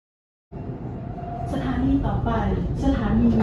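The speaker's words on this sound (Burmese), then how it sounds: "ရထားရောက်ပါပြီ။" A train pulls into a station in Bangkok. The scene opens in silence, then a rumbling, rolling roar starts abruptly and grows steadily louder, with a faint tonal whine rising above it.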